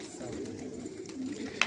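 Soft cooing of a Sauce pigeon, as the breed is called in Quetta, murmurs low and close, faint against a quiet background, with a brief sharp click near the end.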